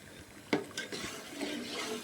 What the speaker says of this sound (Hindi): अब मैं इसमें दही डालूंगी। ये 1 किलो दही है।